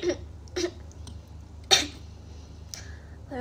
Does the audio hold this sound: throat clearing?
yes